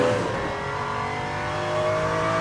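A video game car engine revs steadily during a Bentley crate opening, a loud continuous tonal drone with slight rises in pitch and no voices.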